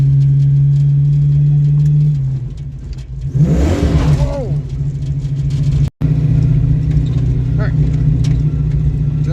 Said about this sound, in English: Speed up a little bit and then shift into second gear.